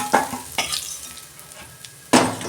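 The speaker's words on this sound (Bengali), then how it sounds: "মাছের মাথাটা আমি ভেজে নিচ্ছি" A fish head frying in hot oil for a mixed vegetable dish, a hissing sizzle broken by a few loud clanks and scrapes of a utensil against the pan, close and without speech.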